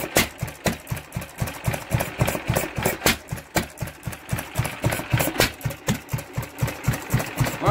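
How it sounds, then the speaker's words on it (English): An old Crossley stationary engine found in a barn runs after a cold start, chugging in a steady, loud rhythmic thump close by with no voices. "Well, Mrs. Mancave, there's your engine."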